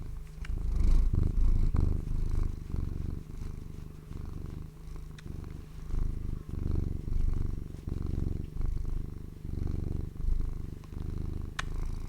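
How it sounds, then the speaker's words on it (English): A cat purrs steadily and close up, a low rhythmic rumbling that pulses with each breath in and out for several seconds, with no talk over it. "Get some purrs on the stream, you know?"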